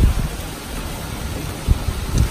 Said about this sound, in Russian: вот такая замечательная погода, дождь стал еще больше